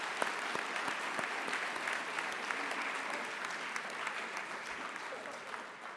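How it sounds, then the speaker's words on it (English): An audience at a school awards night applauds the senior class, a dense steady wash of clapping with a few sharper close claps standing out, sustained throughout without speech. "I just want to give a round of applause again for that whole senior class"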